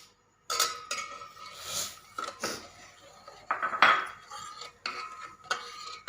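A spoon stirs sugar into thickened milk in a pot, making close bursts of scraping and clinking against the metal in uneven strokes, separated by brief pauses.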